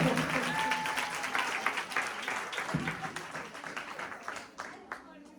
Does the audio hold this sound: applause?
yes